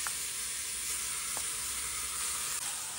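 Beef marinade for Vietnamese bò kho sizzles in a hot pan, a steady close frying hiss with a few small crackles and pops, no voices.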